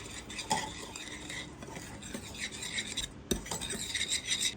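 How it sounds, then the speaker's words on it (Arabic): Fish is mixed and seasoned with lemon zest, producing scraping, rubbing and utensil clinks against a dish in an uneven rhythm, close and fairly quiet. "نخلط"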